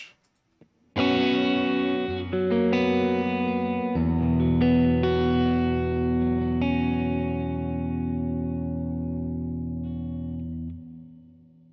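Electric guitar through a Zoom G6 multi-effects pedal set to church reverb, with a few struck chords that bloom into a long, loud, washing sustain slowly decaying, with no voices.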